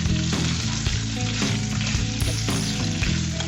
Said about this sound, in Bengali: আলুগুলোকেও আমি সুন্দর করে ভেজে নিব, লাল লাল করে আলুটাকে ভেজে নিব আমি।